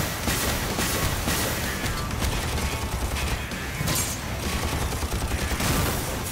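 Rapid gunfire from a boss fight in the BlazeRush racing video game, a dense, steady barrage with mechanical clatter that fills the whole stretch at a constant loud level, without any talk.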